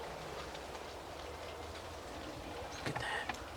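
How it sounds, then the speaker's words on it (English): Morning rain falling outside a house, a soft steady wash of drops heard faintly from nearby, with a few louder patters near the end. "Listen to the rain."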